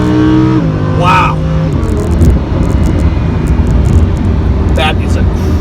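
A Lamborghini Huracan accelerates hard, its engine note rising steadily and loud through the gears with no letup, while someone speaks excitedly over the roar.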